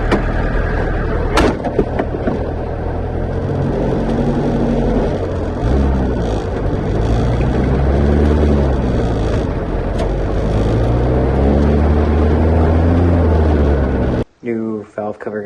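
A VW Rabbit's engine runs loud and close as the car is moved into a garage, a steady low rumble with rising and falling revs, ending abruptly as a voice speaks.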